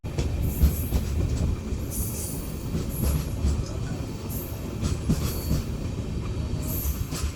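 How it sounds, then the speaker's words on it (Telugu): A goods train hauled by twin locomotives rolls past on the next platform, a loud, continuous rumble of wheels on rails with bursts of high screeching wheel squeal throughout. "మన ప్రక్క ప్లాట్ఫామ్లో ట్విన్ లోకోమోటివ్స్తో గూడ్స్ రైలు వెళుతోంది"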